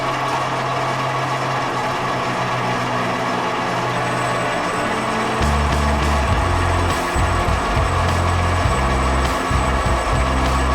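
A lathe machines the steering head bearing cups of a Honda Steed 400 motorcycle: a steady machine drone with a low motor hum that rises and grows rougher partway through as the cutter engages, with a thin high whine above, no talk.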